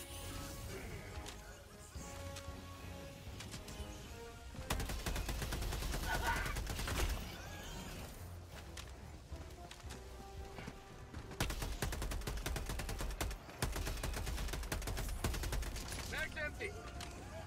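Gunfire in Helldivers 2 on Malevelon Creek, dense bursts of rapid automatic shots and crashes in long stretches, fairly quiet and mixed with battle noise, with voices talking at times underneath.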